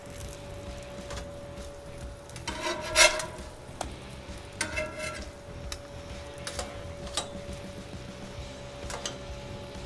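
Eggs frying under a cover on a Blackstone griddle, a faint steady sizzle broken by a few scraping and metallic clinks of a spatula or lid, close, without talking.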